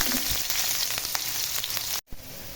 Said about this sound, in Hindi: तो ऑयल हमारा गर्म हो चुका है, तो इसमें डालूंगी प्याज।